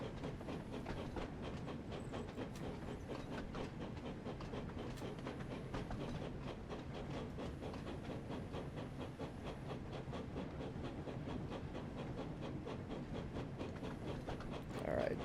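A Thomas & Friends train slowing in the Wonders of Sodor video game, a steady rumbling chug with rhythmic clatter and hiss that carries on evenly the whole time.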